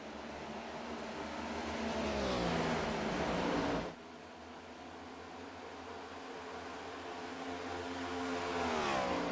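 Stock cars race past at Texas Motor Speedway, a loud broadband engine roar that swells, cuts sharply and builds again as cars pass near, with rising and falling pitch from engines at speed.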